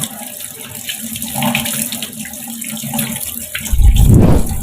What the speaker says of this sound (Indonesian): Gosok tangan yang bersabun dengan air bersih yang mengalir